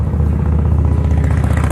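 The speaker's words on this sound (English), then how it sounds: "And a motorcycle going by me." A motorcycle passes close by outdoors in a cemetery, its engine a steady, loud low rumble throughout without any speech.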